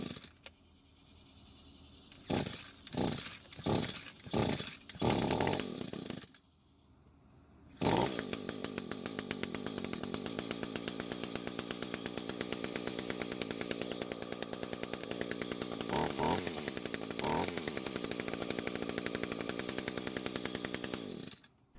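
Echo string trimmer engine, a small two-stroke, fires with a few sputtering bursts, dies briefly, then starts and runs loud and steady close up, with small rises in pitch as it is revved.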